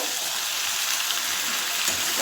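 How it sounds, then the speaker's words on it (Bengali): Duck meat, sweetened with a spoonful of sugar, sizzles and hisses in a pan as it is stirred, a steady close frying crackle with no talking. "এবার আমি এটা আবার নেড়ে দেবো"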